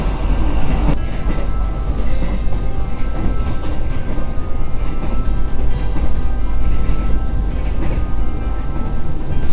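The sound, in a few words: executive passenger train running on rails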